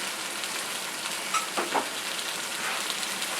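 A herb and vegetable mixture with sage, bay leaves, marjoram and oregano sizzles in a cooking pot for pork and chicken adobo, a steady crackling hiss broken by a few brief scraping stirs.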